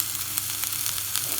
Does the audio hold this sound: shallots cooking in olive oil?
yes